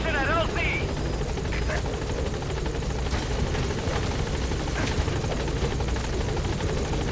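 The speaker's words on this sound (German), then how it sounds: "Und sobald der Heli da ist" Helicopter arriving in Metal Gear Solid V: The Phantom Pain, a steady rotor and engine drone that holds loud and even throughout, with a voice talking over it at the start.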